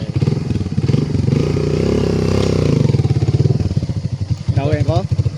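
A motorcycle engine runs close by with a rapid putter and clatter, briefly revving higher in the middle, on a road after nighttime landslides, with a voice speaking near the end.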